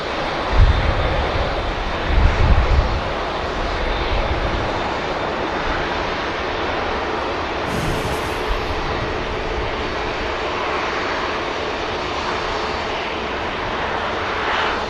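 An airliner entering departure runway 23 left at Manchester Airport gives a steady, broad engine roar mixed with wind buffeting the microphone, holding at an even level throughout with no clear rise or fall.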